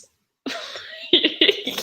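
Several sharp throat coughs break out close to the microphone after a moment of silence, starting with one rough cough and following with two or three quick, harsh bursts.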